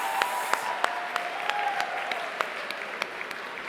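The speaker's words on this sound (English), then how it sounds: "Round of applause for the Weekend Press." Applause at an awards ceremony for media, a steady wash of clapping from an audience with a few sharper individual claps standing out, moderately loud and continuing for a few seconds without speech.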